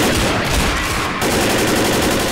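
Loud, dense gunfire rattles without a break in the Left 4 Dead hospital level, as several weapons fire rapidly at close range.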